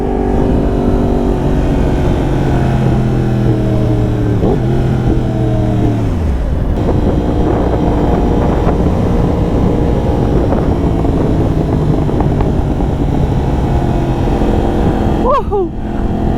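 A beginner motorcycle is ridden at speed, its loud engine droning and shifting pitch through gear changes close to the microphone, with faint exhaust pops in the mix and wind rush throughout.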